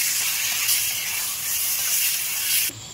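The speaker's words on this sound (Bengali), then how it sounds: "এটাকে আমি ভালো করে ধরে একটু ভেজে নেব" A steady, loud hiss of frying fills the clip as chilli powder sizzles hard in hot oil in a wok, cutting off abruptly near the end.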